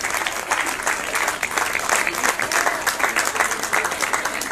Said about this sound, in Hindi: इनके लिए भी तालियां बजाइए।